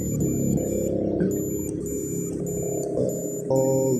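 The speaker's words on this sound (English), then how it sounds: "I'm not sure if you can hear it, but there is continuity everywhere that I'm testing." Steady electronic beeps from a multimeter continuity test while probing a fuel pump relay fuse box on a VW Golf/Jetta Mk5, tones cutting on and off over a hum, close and fairly loud.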